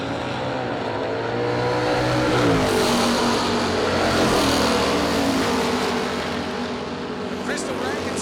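Drag race cars, including a 1976 Camaro, roaring down the track in a dense, loud, sustained engine drone at a racing event, with an announcer talking over it throughout.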